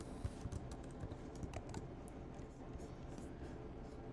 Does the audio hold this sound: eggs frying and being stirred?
no